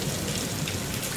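Steady rain falls in a dense, even hiss on surfaces, with a faint low rumble underneath suggesting distant thunder, continuous and without talking.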